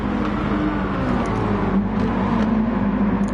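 Race cars lap the Tsukuba circuit in a PS4 racing game, their engines droning loudly and steadily, with a few faint higher whines as cars rev and pass.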